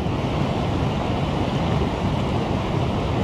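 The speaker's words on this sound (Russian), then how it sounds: "Вот так вот вытекает вода" A constant, even rush of water pours out through a pond's bottom outlet, a dense unbroken hiss and roar with no pauses and no talking.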